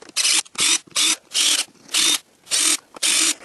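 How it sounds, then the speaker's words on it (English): A Drill Master 18V cordless drill backs out Phillips screws, giving seven loud, evenly spaced whirring bursts, each about a third of a second long, separated by short pauses. "It's held together by a bunch of Phillips screws, and we'll just use our handy hyperfreight drill to remove those."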